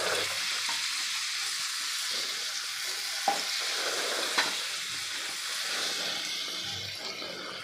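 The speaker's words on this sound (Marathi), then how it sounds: "सगळ्या वांग्याच्या फोडी यामध्ये घातलेल्या आहे आणि आता सगळं आपल्याला मिक्स करून घ्यायचं आहे" Eggplant pieces stirred in a frying pan for a Maharashtrian vangyachi bhaji, with a soft steady sizzle and scraping stir strokes, plus a couple of sharper clinks.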